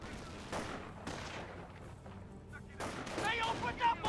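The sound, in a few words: gunfire from Company of Heroes video game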